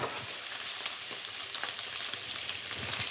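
Meat pieces sear and sizzle in a hot frying pan, a soft, steady crackle with faint stirring ticks throughout and no voices.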